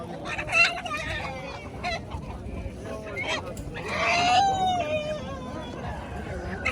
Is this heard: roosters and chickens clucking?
yes